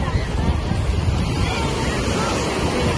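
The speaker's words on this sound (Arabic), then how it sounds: "هو صراحة الموج عالي شوية" High sea waves rolling onto the beach at Alexandria, a loud, continuous rushing surf with heavy wind buffeting the microphone, close and constant with no voices.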